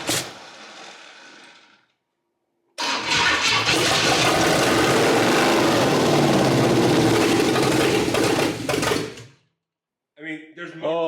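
A big block engine in a Cadillac cranks and fires, then runs loud and rough for several seconds before shutting off, with voices talking before and after.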